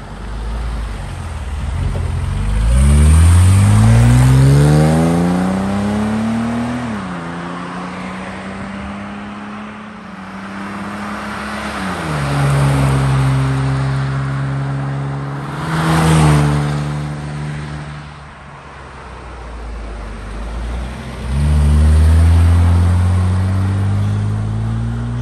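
A 1969 Mercedes-Benz 280 SL Roadster driving on a farm road, its engine climbing through the gears with rising revs, shifting and pulling again, loud and close from the passenger seat, no talking.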